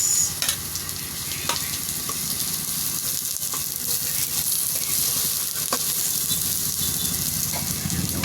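Onion, garlic and ginger sautéing in a hot pan for beef-skin balbacua, a steady loud sizzle with stirring scrapes and occasional pops running continuously, close up and without talk.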